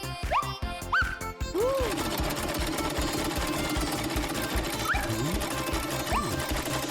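A sewing machine stitches clothes with a fast, steady mechanical rhythm that runs nearly unbroken and fairly loud, while a few high squeaky chirps rise over it at the start and again near the end.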